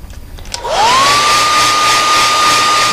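A hair dryer switches on after a brief click and whirs loudly and steadily, blowing to heat-set white paint on an airbrushed Copes gray tree frog model, with a constant rising whine settling into a high hum.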